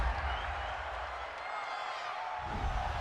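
A stadium crowd at an Eagles–Cowboys NFL game reacts to a roughing-the-passer penalty with a broad, sustained roar of mixed voices and booing, steady and distant-sounding throughout.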